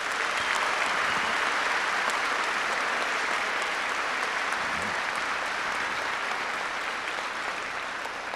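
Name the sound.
audience applause at a gala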